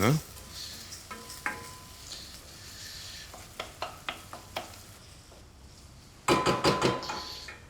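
Squid caramelizing in a hot pan, a soft continuous sizzle with clinks and taps of a spoon or utensil against the pan, growing louder and busier near the end.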